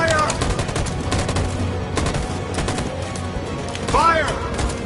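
Steady, dense gunfire crackles through a tense scene in the video game Detroit: Become Human, loud and continuous, with a voice shouting over it.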